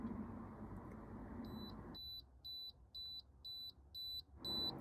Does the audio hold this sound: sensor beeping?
yes